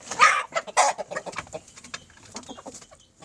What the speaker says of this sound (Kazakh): Анау инкубатордан шыққан балапан